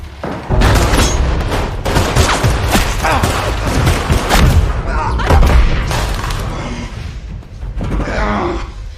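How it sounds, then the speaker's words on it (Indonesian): Film gunfire in a gangster scene, a dense burst of loud booming shots and impacts that fills the stretch almost continuously, heard close and heavy with a few brief pauses. "tiba-tiba Beckett melepaskan sebuah tembakan hingga tepat mengenai pergelangan kaki Cash"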